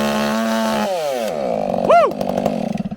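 A Stihl 500i chainsaw fitted with an Egan Straight Shot exhaust rips through oak, its loud, close engine snarl shifting pitch as it revs, bogs and rises again, ending in a quick pulsing idle.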